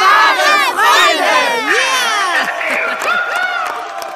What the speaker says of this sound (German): Der Jubel der Heudorfer war unbeschreiblich.